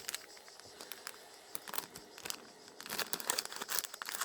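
Plastic packaging around a set of nail art brushes crinkles and tears close by as it is cut open, with a busy stretch of rustling that grows louder toward the end.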